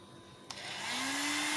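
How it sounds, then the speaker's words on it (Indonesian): An electric blower running as a load on a 5 kW low-frequency pure sine wave inverter switches on with a click, then its motor hum and airy whoosh rise steadily in pitch as it spins up. "beban pertama kali di sini saya menggunakan beban blower"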